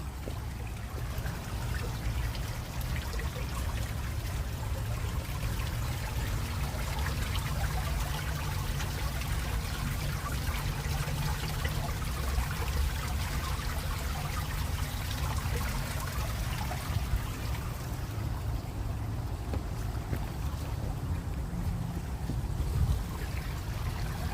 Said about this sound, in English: the landscape waterfall at the Alfred Caldwell Lily Pool